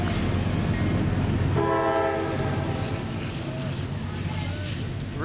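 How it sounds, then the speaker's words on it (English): An Amtrak train rolls through the station in Fayetteville beside a ballpark, a loud continuous low rumble with a brief tonal horn blast partway through, then the steady roar of passing cars. "Amtrak comes rolling through the station here in Fayetteville."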